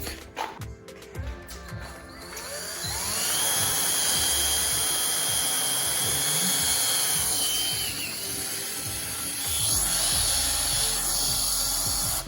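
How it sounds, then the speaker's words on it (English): A jigsaw cuts wood for a subwoofer box, starting with a few clattering knocks then settling into a continuous rasping, buzzing cut that runs loud and close for most of the stretch. "take the jigsaw, do it, and try and cut out that middle part."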